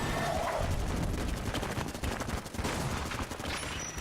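Dense gunfire from Enter the Gungeon during a boss fight, a busy, continuous barrage of overlapping shots with no pauses, loud throughout.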